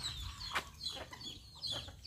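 Chickens on a rural Thai farm, including short-legged birds, cluck in soft scattered calls over a quiet outdoor background with no talking.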